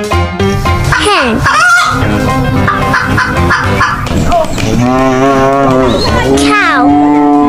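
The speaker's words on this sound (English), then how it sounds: "Cow." A cow lows with drawn-out moos over a lively music track, loud and close, alongside gobbling farm-bird calls.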